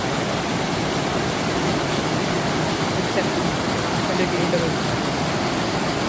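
Water pours from a village dam in a loud, continuous broadband rush that never lets up, close and steady like a waterfall, with a voice faintly under it.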